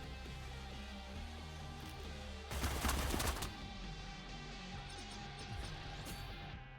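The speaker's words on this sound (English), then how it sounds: "So I think we just take the shots here." A burst of gunfire lasting about a second rings out in the tactical video game Cyber Knights: Flashpoint, over continuous background music.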